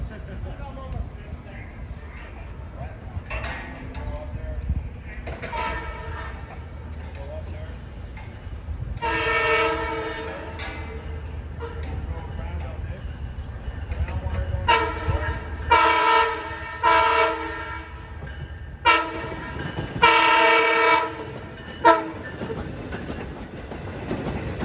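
LIRR train 611, a Port Jefferson to Hunters Point Avenue express, passes Nassau Tower in Mineola, sounding its horn in several loud multi-tone blasts over a rolling rumble, with someone talking through much of it.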